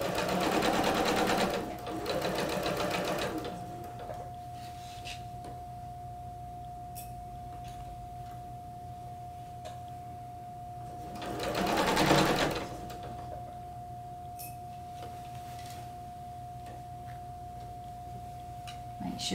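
A home sewing machine stitches a garment sleeve in short runs of rapid, steady whirring, with a long quieter stretch under a constant hum and another brief burst of sewing partway through.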